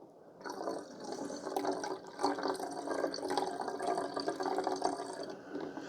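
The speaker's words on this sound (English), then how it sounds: "Filling it up at the sink, that was a nice big opening." Tap water pours steadily at a sink into the tank of a BISSELL Spot Clean ProHeat Pet portable carpet cleaner, model 2513W, a continuous close splashing gush that fills the whole stretch with no talk.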